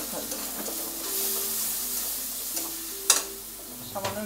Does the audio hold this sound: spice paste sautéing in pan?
yes